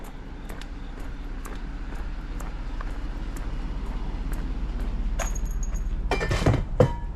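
A bunch of keys jangles and clinks a few times toward the end, sharp and close, over a steady low mechanical rumble.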